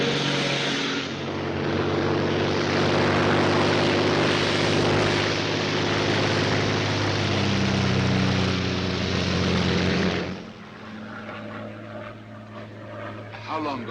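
A Royal Air Force propeller plane in flight, its steady loud engine drone filling most of the stretch before dropping away abruptly near the end.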